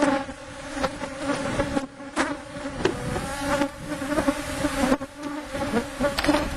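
Honey bees swarm around beehives, filling the air with a dense, steady, close buzzing drone that wavers slightly. No one speaks.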